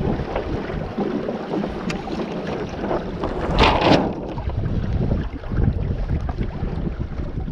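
A Hobie Adventure Island sailboat jibing in light wind, with steady water rush and wind buffeting on the microphone, and a brief louder flap and swish midway as the sail swings across.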